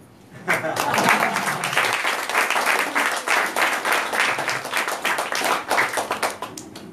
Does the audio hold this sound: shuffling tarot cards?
no